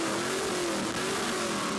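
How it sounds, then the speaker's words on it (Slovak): An engine with its mufflers removed roars steadily and loudly, a harsh, rasping drone that holds one pitch for the whole moment, close and unbroken, with no voices. "Tento huk od motora niektorí milujú, niektorí ho však nenávidia."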